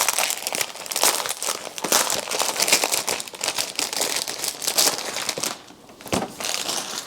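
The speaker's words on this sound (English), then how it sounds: "So let's open this plastic." Sealed plastic packaging of a diamond painting kit being opened: continuous loud crinkling and crackling of plastic, close up, with rapid irregular rustles and one brief pause near the end.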